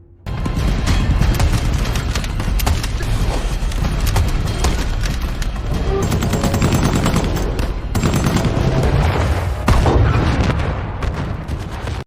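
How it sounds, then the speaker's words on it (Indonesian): Gunfire from the First World War film All Quiet on the Western Front, with German soldiers shooting at an advancing tank: loud, continuous rattling bursts mixed with heavy booms, dense and sustained throughout. "Para pasukan Jerman mencoba menembaki tank tersebut, namun itu sia-sia."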